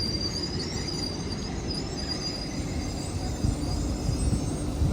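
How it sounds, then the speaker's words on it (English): A steady rumble of an LNER Azuma, unit 800-110, approaching on an Aberdeen service at a station on the East Coast Main Line, with a constant rolling roar and faint high squeals over it. "now approaching will be the 1047 LNER service to Aberdeen with another LNER Azuma. 800-110."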